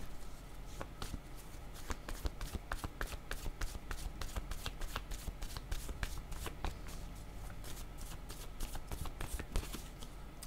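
A deck of playing cards is shuffled over and over, giving a dense, fast run of crisp riffling clicks that keeps an even pace for about ten seconds, close and fairly quiet.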